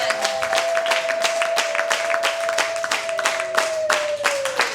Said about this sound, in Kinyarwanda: Ayo mashyi ntabwo akwiriye Imana, nimureke tuyongere amashimisha bikwiriye.